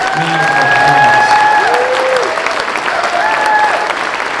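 A crowd at a school band concert applauds the marching band, steady loud clapping with some cheering and whistles over the top throughout.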